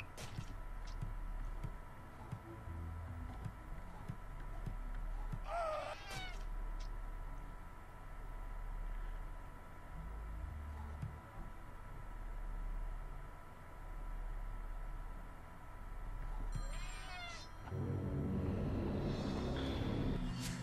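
A cat meows in the video game Friday the 13th Killer Puzzle, a few drawn-out, wavering cries at separate moments, loud over a low rumbling ambient drone with no speech.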